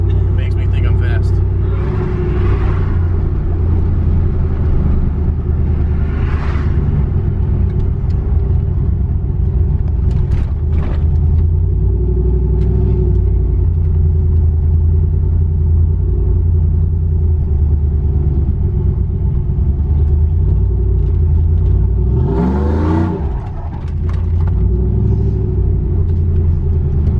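A supercharged shop truck's engine drones and rumbles steadily from inside the cab on a fast ride at double the speed limit, loud and continuous, with brief voices rising over it now and then.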